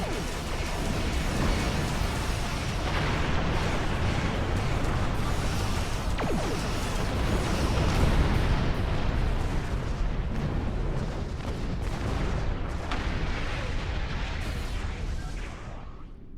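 Starship weapons fire and explosions in Star Trek Online during a battle against Klingons, a dense, continuous roar of blasts and booms lasting throughout, loud and sustained with no clear pauses.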